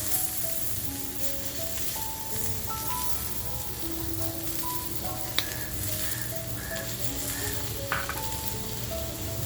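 Butter garlic tiger prawns sizzle in butter over a full flame, a steady crackling fry with a few sharp pops and faint clinks, continuous and fairly close, no voices.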